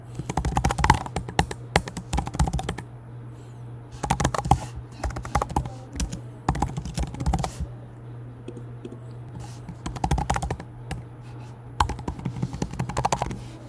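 An email address being typed on a computer keyboard, close bursts of rapid key clicks separated by short pauses, with a low steady hum underneath and no talk.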